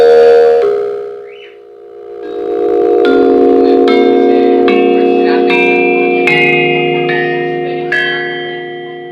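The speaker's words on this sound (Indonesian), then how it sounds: "Berikut merupakan contoh bunyi dari slentem." A slentem, a Javanese gamelan instrument of metal slabs, is struck note by note in a slow descending sequence, each tone ringing long and bright and overlapping the next, loud and close with no talk.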